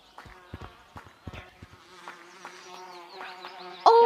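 Bees around a beehive in the VR game Gorilla Tag, a buzzing insect drone over scattered thuddy footsteps and taps, ending in a sudden louder burst.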